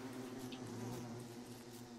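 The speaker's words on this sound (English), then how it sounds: "Bees aren't even angry anymore." Bees buzz in the survival video game Don't Starve Together: a steady, continuous droning hum holds at an even level throughout, with no talking.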